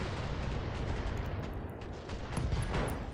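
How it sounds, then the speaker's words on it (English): Ammunition cooks off inside a mech in BattleTech, a continuous rumbling barrage of crackling blasts with heavier thumps near the end, loud and filling the whole moment. "Ammo explosion, I love it."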